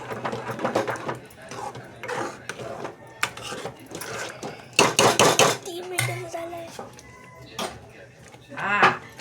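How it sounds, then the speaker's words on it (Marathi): Pav bhaji is mashed in a kadai, giving irregular metal clanks and scraping knocks of varying loudness, with a few sharper bursts, while a home kitchen hum continues underneath. "हे बघा, तसं मॅश करायचं."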